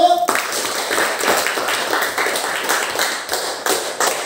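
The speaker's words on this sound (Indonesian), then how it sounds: "Kasih tepuk tangan untuk kelompok 1" A classroom group gives a short burst of rapid, dense clapping for a presenting student team, fairly close and loud, lasting a few seconds.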